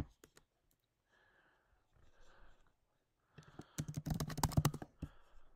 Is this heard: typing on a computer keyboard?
yes